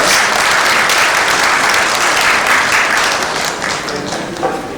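An audience at an International Day for Women in Maritime inaugural session bursts into loud, sustained applause, a dense wash of clapping that holds steady and then tapers slightly toward the end.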